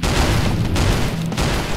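Bombardment explosions roll through a battle in the video game Arrow War, a dense, continuous wall of booms and blasts with no clear gaps, loud and close throughout.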